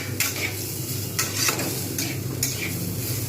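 Red masoor lentils frying in a pan for a Bengali dal with ridge gourd and potato, with a steady sizzle and three distinct scraping stirs of a spoon across the pan, close and clear with no talking.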